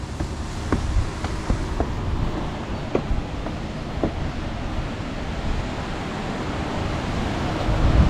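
Water pours down from a barrage at a hydroelectric dam into the river below, a steady broadband roar like surf that holds for the whole stretch and swells slightly near the end, with a few faint clicks over it.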